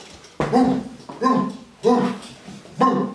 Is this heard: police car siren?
no